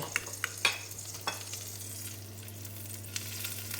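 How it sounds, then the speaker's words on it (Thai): Eggs fry in a pan for breakfast, with a continuous soft sizzle and several sharp crackles and spatters near the start, close and fairly quiet with no talking. "ทอดไข่"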